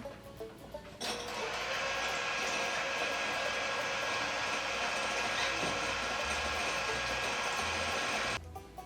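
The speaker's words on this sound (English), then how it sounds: "we're going to beat them with an electric mixer until soft peaks form" An electric mixer beats egg whites in a bowl toward soft peaks, giving a loud, steady whirring drone that starts abruptly, runs for about seven seconds and then cuts off.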